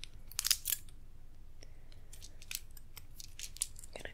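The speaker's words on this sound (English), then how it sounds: "And then I have a scissors." Scissors used in an ASMR personal-attention roleplay, giving a few soft, close snipping and handling clicks in quiet, breathy surroundings with no speech.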